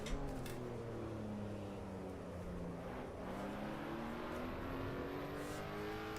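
Supercharged car engine in the racing game Assetto Corsa EVO revving steadily, a continuous loud mechanical drone with rising and falling pitch sweeps, heard alone without talk.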